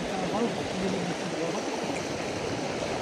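A stream flows steadily at night as someone wades across it on foot, a continuous broadband rush of moving water with faint voices underneath.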